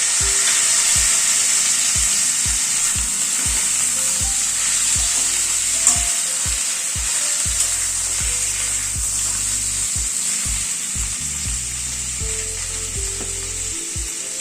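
Chopped tomato chunks sizzling and frying in a pan while making Bengali mutton kosha, a steady close hiss with occasional stirring clatter throughout.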